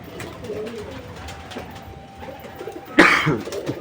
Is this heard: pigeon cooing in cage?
yes